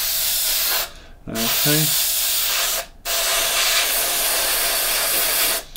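An airbrush sprays a white coat onto a Bandai 1/72 X-Wing model kit in a spray booth. Close, loud hissing bursts come in three long passes separated by brief pauses, with one short spoken word in a gap.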